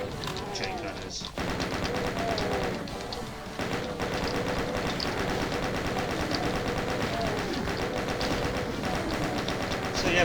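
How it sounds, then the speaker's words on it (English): Chaingunners in a Doom mod unleash rapid, continuous chaingun bursts, dense rattling gunfire that fills the whole stretch with only brief gaps, while someone talks over the shooting. "Be careful, it's full of chain gunners."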